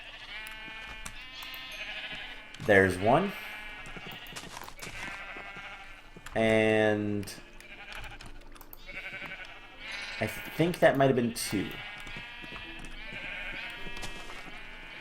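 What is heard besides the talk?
sheep bleating in a video game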